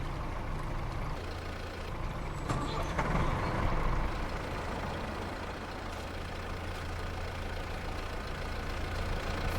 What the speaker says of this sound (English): This tractor's really quite loud.